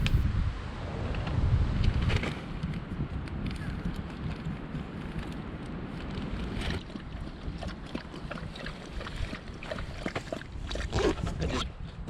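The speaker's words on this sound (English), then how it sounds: "wind had started to pick up as I was setting up" Gusty wind buffets a campsite and tent by Steel Creek on the Buffalo National River, a steady broadband rush with louder blasts near the start and later, no one speaking.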